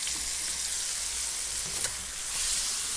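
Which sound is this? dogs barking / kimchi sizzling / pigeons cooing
kimchi sizzling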